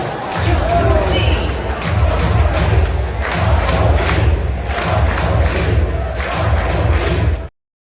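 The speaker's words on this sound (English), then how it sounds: "The whole crowd, Jung-Hoo Lee, Jung-Hoo Lee, Jung-Hoo Lee." Large baseball crowd at a Seattle Mariners versus San Francisco Giants game chanting the name of center fielder Jung-Hoo Lee, loud and rhythmic with repeated thumping beats under a dense roar, sustained throughout before cutting off abruptly.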